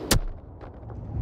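A single sharp gunshot cracks from a shooter video game, followed by fainter muffled reports and low in-game rumble.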